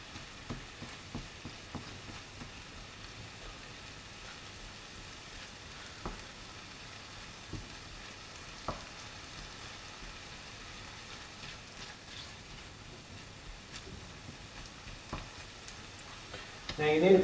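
Minced meat for spaghetti bolognese frying in a pan, giving a steady close sizzle with occasional clicks and scrapes as it is broken up and stirred; no one speaks.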